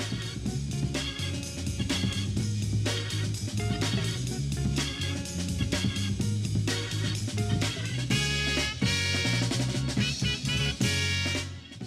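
An up-tempo funk record with a full band of drums, bass and horns plays continuously at moderate level, with no voices over it.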